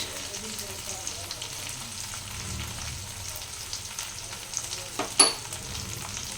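Ground coriander and cumin fry in a pan for a jackfruit and potato kosha, giving a soft, low, steady sizzle with a brief sharper scrape of the spatula near the end.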